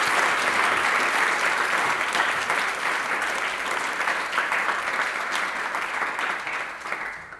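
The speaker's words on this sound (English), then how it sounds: "I think that does deserve a round of applause." Sustained applause from a panel discussion audience after a bipartisan dialogue on US presidential elections, a dense steady clapping that holds loudly for several seconds before starting to fade.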